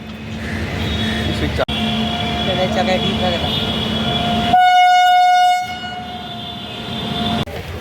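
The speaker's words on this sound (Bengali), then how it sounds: "আমরা এখন টালিগঞ্জ রেল ব্রিজে আসছি এখান থেকে আমরা ট্রেনে উঠছি" A train runs loud and close at the Tollygunge rail bridge in Kolkata, with a steady rumble and a long, sustained horn blast partway through.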